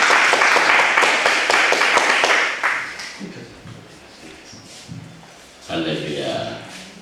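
A church congregation at a Pentecost service claps loudly for a few seconds, then the applause fades out and a pastor begins speaking.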